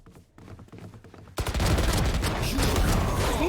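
Rapid shotgun blasts and Stinger submachine-gun fire ring out in a Valorant match, a quiet lead-in giving way to a loud, sustained barrage of overlapping shots.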